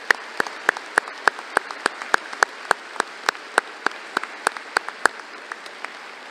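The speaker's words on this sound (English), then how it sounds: "Let's give them a round of applause" Commencement audience applauding student trustees, with a few distinct close claps standing out in a regular rhythm over a soft, sparse background of more distant clapping, gradually thinning toward the end.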